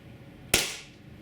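A single sharp shot from a Tiberius T9.1 carbine running on HPA, close and loud, with a short fading hiss after the crack and quiet on either side.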